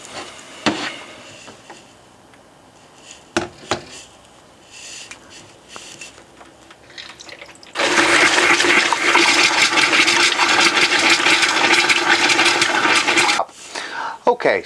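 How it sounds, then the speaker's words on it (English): Water drains from a motorhome tap into a glass jug, first in quiet clicks and knocks with some talk, then a loud, steady gush of running water for several seconds before it stops. "So let's just get that drained now."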